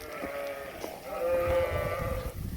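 Ewes bleating in a farmyard by a barn, several calls overlapping at close range, moderately loud with a rough, wavering tone.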